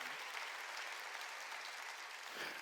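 A church congregation applauds during a Sunday worship service, steady clapping from a crowd throughout, fairly faint and distant.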